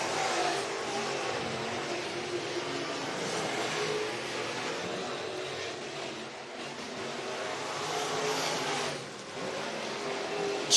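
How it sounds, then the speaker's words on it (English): Late model race cars circling an oval track at Sugar Creek Raceway, a sustained engine roar rising and falling as the cars pass at moderate distance, with no talking. "Almost looks like the G3 and the A12 are racing."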